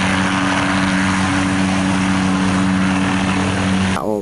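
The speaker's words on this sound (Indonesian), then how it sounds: "Ini ada mainan helikopter warna biru teman-teman, atau helikopter blue color" A loud, steady electric whir of a toy helicopter's rotor, constant hum with buzzing overtones, cutting off abruptly near the end.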